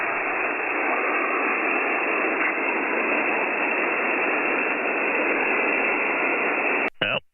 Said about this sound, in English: I got an S7 of noise tonight, which is pretty high, even for me.